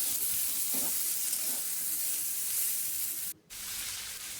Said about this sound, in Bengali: এবার আমি ভালো করে মিশিয়ে নিচ্ছি সব কিছু মশলা দিয়ে